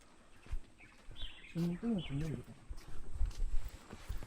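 A loud bird calls outdoors in Gyeongju, South Korea, giving a short burst of harsh, rising-and-falling cries in the middle of the clip over low rustling background noise.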